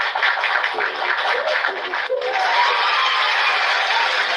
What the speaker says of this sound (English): let's give a wonderful clap